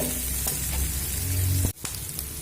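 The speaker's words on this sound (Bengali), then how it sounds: "দেখুন পেঁয়াজ আমি দু মিনিট মতো মিডিয়াম ফ্লেম করে ভেজে নিয়েছি" Onions frying in a pan over a medium flame give a steady close sizzle, broken by a brief sharp clatter near the end before the frying hiss resumes.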